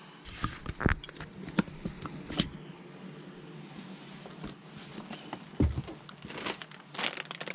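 Plastic model airplane packaging being opened, with intermittent crinkling, crumpling and tearing of wrappers, close and fairly quiet, in irregular bursts with brief pauses.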